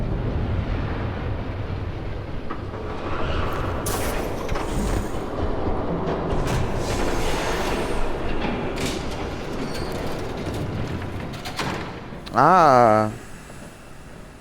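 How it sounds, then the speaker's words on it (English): A train approaching in Batman: The Telltale Series, a steady rumbling rail roar building across the scene with game effects and a brief voice, ending in a sharp rising whine near the end. "There's a train coming."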